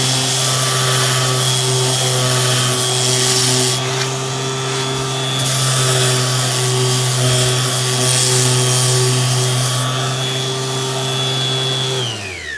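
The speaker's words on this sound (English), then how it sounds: "I'm gonna grab my sander, my electric." An electric sander runs steadily against the edges of a wooden box, a loud continuous motor whine with a slight shift in pitch partway through as pressure changes, before it winds down at the end.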